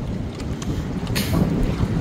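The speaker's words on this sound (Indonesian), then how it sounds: "Ini angin kencang, kemudian sudah terjadi gerimis." Strong wind blows in Makkah as a drizzle begins, a steady, loud rushing buffet with gusty swells and microphone wind noise throughout.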